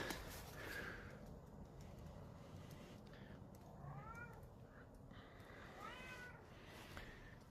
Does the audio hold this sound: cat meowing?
yes